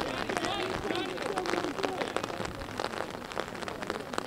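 Heavy rain pours steadily at an outdoor high school baseball game, a dense, loud hiss of drops on surfaces throughout, with people talking faintly beneath it.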